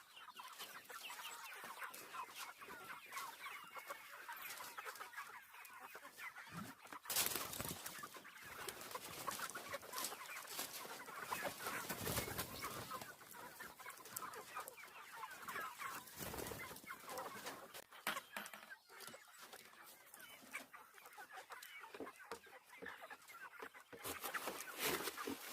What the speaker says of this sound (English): feeding the meat birds.